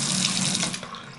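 Water running from a faucet: a steady, loud hiss and splash of flowing water into a sink, close by and alone, lasting the whole short moment.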